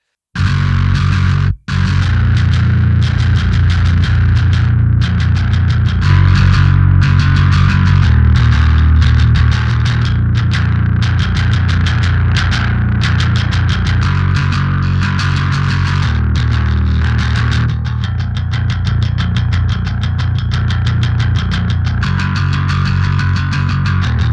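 A heavy bass synth line plays loud and continuous with no vocals, its tone undefined and lacking distortion and treble, rolling steadily with repeating rhythmic pulses through the whole passage.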